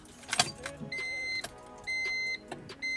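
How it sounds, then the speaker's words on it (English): Soft clicks followed by the faint electric whine of a Honda Civic's fuel pump priming, humming in short bursts, stopping and restarting three times, close by and quiet. "You can hear the fuel pump priming."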